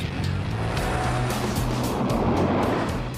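A BMW 760Li's 6-litre V12 engine roars steadily nearby, a deep continuous rumble with a broad rushing noise over it.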